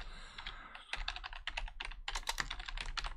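Typing on a computer keyboard in quick, uneven bursts of close, crisp key clicks with short pauses between, heard alone in a quiet room.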